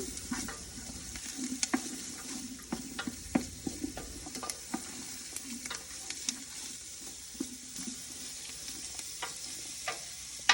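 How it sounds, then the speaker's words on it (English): Garlic sizzles in a pan under a soft, continuous frying hiss, while a utensil scrapes and taps the pan in an irregular stirring rhythm, close and fairly quiet throughout. "we're going to add in our garlic. And we just want to mix that around for about 20 or 30 seconds"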